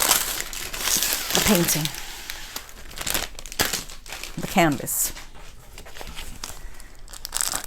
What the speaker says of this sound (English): the painting comes in a plastic bag also to protect it while it's traveling